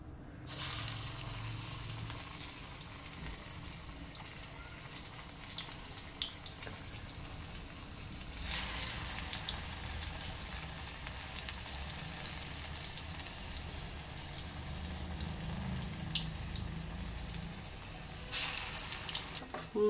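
Small round moong dal bhaji fritters bubble as they deep-fry in hot oil, a steady crackling hiss that runs throughout with faint clinks, swelling louder in places as fresh batter drops in.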